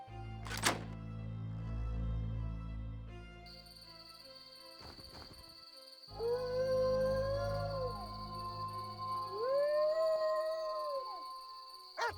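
A dog howls in The Witcher: Rise of the White Wolf, two long rising-and-falling howls in the second half, loud and close, after a thud and game ambience with no talk.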